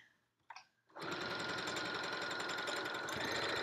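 After a couple of faint clicks, a sewing machine starts up and runs a reinforcing back stitch on a Yup'ik qaspeq, a fast, steady mechanical rattle held close and loud for nearly three seconds.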